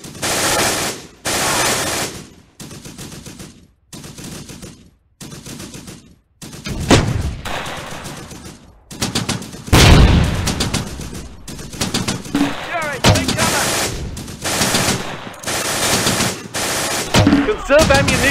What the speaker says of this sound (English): We're under heavy fire.